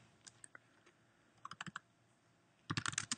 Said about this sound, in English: I can, type whatever I want up here